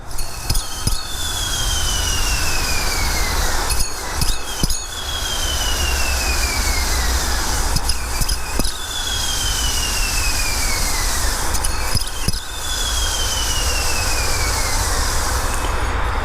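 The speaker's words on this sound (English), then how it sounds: "there's definitely some grinding inside that bearing that's in there" Grinding bearing in the stock idler pulley of an 04 Cobra engine, a loud, continuous rough whir and whine from a running engine up close, with sharp clicks and short bursts recurring about every four seconds.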